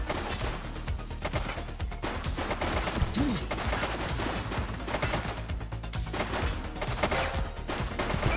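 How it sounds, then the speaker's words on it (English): Rapid gunfire crackles through a firefight in the police game The Precinct, bursts of machine-gun shots and single cracks repeating steadily at moderate volume with a few heavier impacts, and no voices over it. "He's shooting!"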